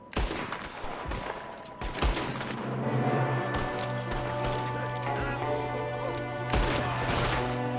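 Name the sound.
gunfire in the video game Red Dead Redemption 2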